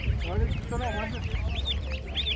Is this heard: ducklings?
yes